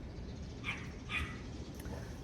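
Dogs barking in the distance, two faint, short barks about half a second apart, then a weaker yip, over steady background noise with no talk.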